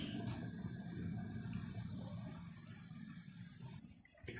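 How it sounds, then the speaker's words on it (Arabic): Warm tap water running steadily over cooked pasta being rinsed for Egyptian koshari, a continuous soft splashing stream at moderate distance, easing slightly toward the end. "المكرونه تتغسل بميه دافيه او سخنه"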